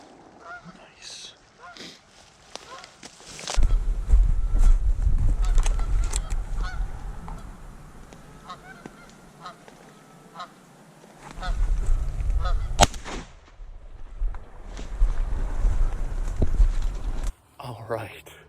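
Geese honk repeatedly during an early season goose hunt, calls near and far over rustling, footsteps and heavy wind or handling noise, with a person talking at times.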